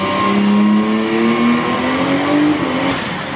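A turbocharged L28 engine in a 1981 Datsun 280ZX revs on a dyno, its loud, steady drone climbing in pitch across the run and then easing off near the end.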